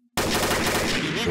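Gunfire in the shooter game Combat Arms erupts after a brief quiet moment, a loud, dense burst of rapid automatic shots running continuously to the end.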